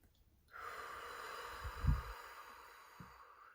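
A single long, deep breath taken close to the microphone, a steady airy rush lasting about three seconds, briefly catching louder and rougher near the middle before trailing off.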